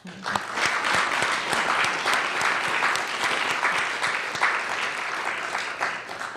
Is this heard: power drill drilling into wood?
no